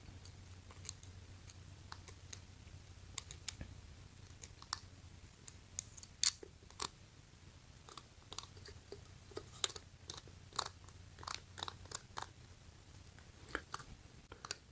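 A Zingy portable hand crank coffee bean grinder clicking as its metal piece catches a groove: irregular sharp ticks spread over about fifteen seconds, growing quicker toward the end, over a low steady hum, close and quiet.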